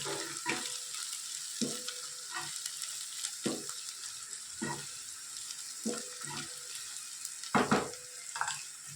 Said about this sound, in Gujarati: ડુંગળી સરસ આપણે શેકાઈ રહી છે.